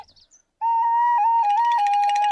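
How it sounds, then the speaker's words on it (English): A little wooden whistle plays a clear, sustained tune in a children's story, holding bright notes that step up and down in pitch and turn to a quick warble near the end, close and alone. "He was playing on a little wooden whistle."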